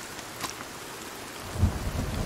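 Steady rain pours in the survival game Sons of the Forest, and a low rumble of thunder swells near the end of the short stretch, with no voices.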